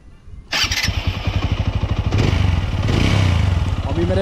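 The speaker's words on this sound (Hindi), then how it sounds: "नॉर्मल जो आवाज़ होती है बाइक की अपाचे की, मैं आपको सुनाता हूँ कैसी है" A TVS Apache motorcycle engine starts abruptly and settles into a steady, throbbing idle, with a brief blip of revs near the end, close and loud.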